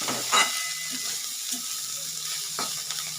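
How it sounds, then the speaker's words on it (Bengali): Beans frying in a pan just uncovered, stirred with a few sharp spatula scrapes and clinks over a light, close sizzle. "ঢাকনাটা খুলে আর একটু নেড়ে দেব"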